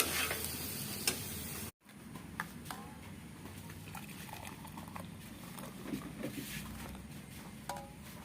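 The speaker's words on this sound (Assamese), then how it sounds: "এয়া মই মটৰ আৰু বুট ভাজি আছো সন্ধিয়া চাহৰ কাৰণে" Peas and chickpeas fry in a pan for evening tea, giving a faint, soft sizzle and patter with light ticks and scrapes from stirring after a short break.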